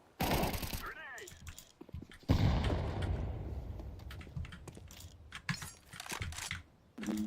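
Gunfire and a grenade blast in a tactical shooter video game: loud, dense bursts of rapid shots and sharp impacts that run almost without a break, with a heavy burst a little over two seconds in and voices talking over the mix.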